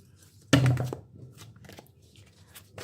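Tarot cards being shuffled, a stiff deck riffled in one loud burst of papery flutter followed by fainter rustling and handling.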